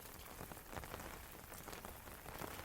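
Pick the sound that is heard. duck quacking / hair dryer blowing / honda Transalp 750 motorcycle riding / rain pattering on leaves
rain pattering on leaves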